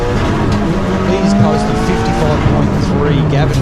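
A Mitsubishi Evo hillclimb race car launches with a loud engine and squealing tyres, the sound sustained and close, while people talk over it.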